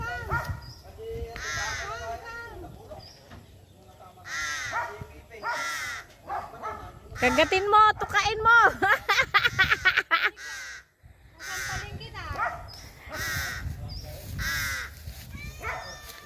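Harsh caws from a nearby crow, repeated in bursts, mixed with people talking and a dog's excited barking.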